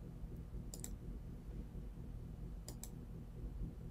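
Two short pairs of computer mouse clicks made while clicking in a code previewer, one pair near the start and one later, faint over a steady low background hum with no talking.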